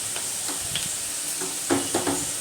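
Onions frying in oil in a pan sizzle steadily at close range as ground spice paste goes in, with soft stirring scrapes and brief bursts of louder hissing.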